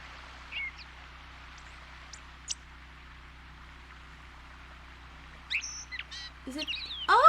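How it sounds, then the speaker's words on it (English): Small birds chirp near a birdhouse along a residential path, a few faint scattered notes early on, then a cluster of sharper, louder calls toward the end over quiet background hum. "A bird chirps."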